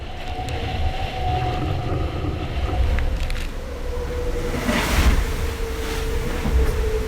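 Loud rushing wind and water roar on board a racing sailboat at sea during the Vendée Globe, with a rumbling hull, creaks and surging splashes, no speech.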